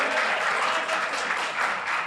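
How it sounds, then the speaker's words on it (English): Convention audience at a Federation of the Blind gathering applauding steadily, a dense, even wash of many hands clapping at close range with no break. "Yes, it does deserve applause."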